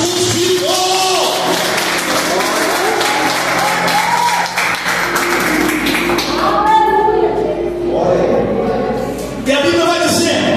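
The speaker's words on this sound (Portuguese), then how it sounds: "Você pode aplaudir Jesus?" A church congregation at a communion service applauds Jesus, scattered clapping and taps mixed with voices and music-like tones, the crowd sound fairly close and varying over about ten seconds.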